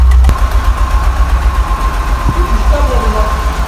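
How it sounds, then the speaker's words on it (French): A Ford Scorpio car engine idles cold, not yet warm, with a low, slightly uneven rumble, close by, with a steady hum and a sharp knock near the start. "Le moteur n'est pas chaud"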